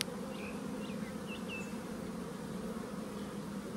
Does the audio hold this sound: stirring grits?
no